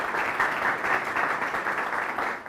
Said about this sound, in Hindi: तो जोरदार तालियों से अभिनंदन कीजिए इनका